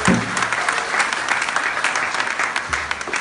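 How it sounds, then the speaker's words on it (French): Church congregation applauding to acclaim the Lord, a dense, steady burst of clapping from many hands filling the room at close range for the whole stretch. "Est-ce qu'on peut acclamer le Seigneur?"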